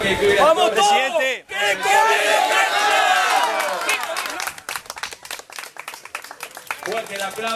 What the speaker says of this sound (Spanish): Fuerte el aplauso para los responsables de la Queco, ganadora del gran clásico de campeonato.